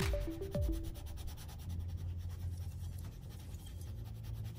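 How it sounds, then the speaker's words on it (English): A pencil shades steadily across paper in smooth continuous strokes, a soft scratchy rubbing close up; a brief tonal chime sounds near the start, with no talk. "in a continuous, smooth shading motion, gently lighten up on the pressure as you get further and further away"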